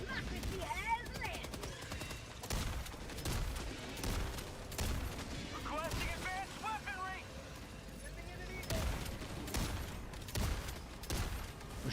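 Rapid gunfire bursts in Helldivers 2, with loud fusillades and machine-gun volleys cracking repeatedly over continuous battle noise while players talk throughout.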